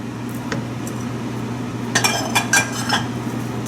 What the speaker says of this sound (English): I've mixed all the vegetables in here.